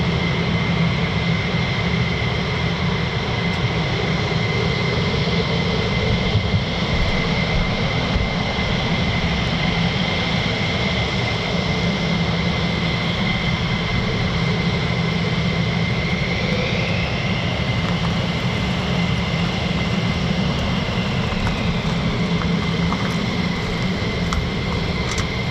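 An F-15 fighter jet takes off with afterburner from an RAF base, a sustained, heavy jet roar that carries on steadily for the whole stretch with no voices.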